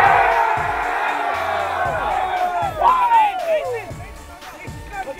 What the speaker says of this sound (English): give your crowd the fight song!